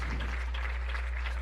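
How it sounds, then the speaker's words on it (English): Ohio Northern football team applauding an injured player at a college Division III game, a steady wash of distant crowd clapping with no talk over it. "And even the Ohio Northern team giving him a round of applause."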